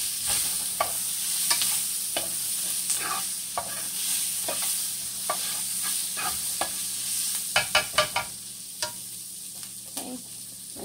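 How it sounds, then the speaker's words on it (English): Onions fry in a pot for a crockpot beef soup, a steady close sizzle under scattered clinks and scrapes of stirring, with no voice. "I'm over here burning my onions."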